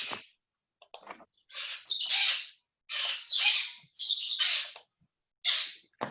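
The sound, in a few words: parrot squawking on a balcony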